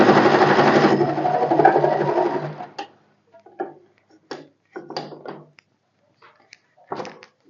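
A sewing machine runs a continuous stitching burst on a lined blouse for about two seconds, then stops, leaving a series of soft clicks, taps and fabric handling noises.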